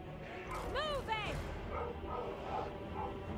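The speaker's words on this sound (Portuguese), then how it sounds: "Até meu cachorro tá puto com os caras dos demônios aqui" A real dog barks twice in quick succession, loud and close, then whimpers faintly over the busy sound of a Total War: Warhammer III battle.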